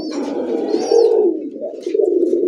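A pair of Bombay pigeons gives a loud, close, rolling coo that runs almost unbroken, with a few brief higher-pitched notes above it.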